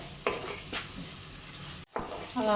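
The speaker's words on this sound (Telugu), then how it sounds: "ఈ కొంచెం వేగే వరకు మనము ఫ్రై చేసుకుంటూ ఉండాలి ఈ ఆనియన్స్ కూడా కలర్ చేంజ్ అవ్వాలండి" Onions fry in oil in a pan for a dahi bhindi (okra yogurt) curry, giving a soft steady sizzle with a few stirring scrapes and a brief cut in the middle.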